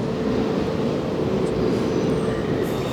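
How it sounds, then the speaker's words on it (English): A train rumbles steadily through a railway station on the Prime Meridian, a loud, continuous low roar with no break across the moment. "that train is so noisy"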